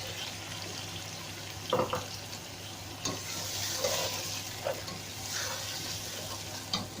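Tomatoes and chilies sizzle steadily in a hot pan for aloo gosht, with a few scraping stirs and clinks of a utensil, fairly quiet and close.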